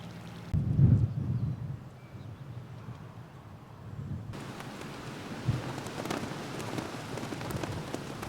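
Rain falls around a pig enclosure beside a narrowboat, a soft patter with a low rumble near the start that swells into denser, hissing rainfall later on; no one talks.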